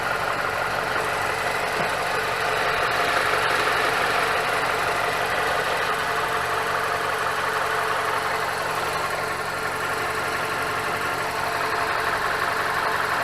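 A Mazda CX-5 engine runs steadily after an oil change, a loud, continuous idle hum with broad mechanical noise and a faint rhythmic knock, close by and without talk.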